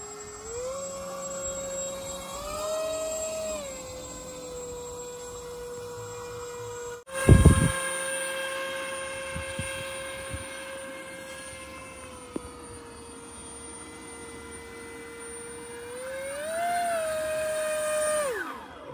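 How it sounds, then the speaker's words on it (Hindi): A homemade RC boat driven by a brushless motor runs on water, its steady high whine rising and falling with the throttle. A sudden splashy burst is heard partway through, then the whine continues at a distance. "तो गाइस आरसी बोट तो काफी मस्त चल रहा था"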